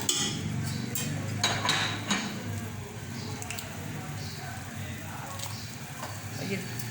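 Masala sizzles in a pan as whisked yogurt is added and fried, a steady low hiss broken by occasional clinks of a spoon against the pan, with someone talking over it.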